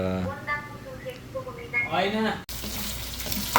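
A voice speaks briefly, then water pours steadily from a dispenser into a glass with a close, splashy hiss.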